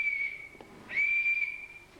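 A whistle blown lightly to imitate wind in a science presentation, giving a thin, steady high tone that breaks off briefly and then resumes, close and clear with no talk.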